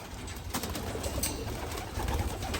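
Racing pigeons in a loft give low, repeated cooing over a steady background of rustling and shuffling, close and moderately loud.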